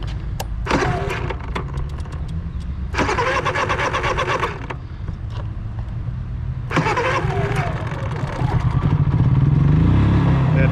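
A Honda EU3000is inverter generator beside a travel trailer is pull-started in several loud bursts, sputtering briefly between tries before catching and settling into a steady close running drone, with no talking.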